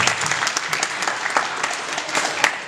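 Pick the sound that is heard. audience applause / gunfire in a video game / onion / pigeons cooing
audience applause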